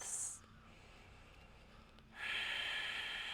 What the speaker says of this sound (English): Ujjayi breath, heating the body, relaxing the jaw.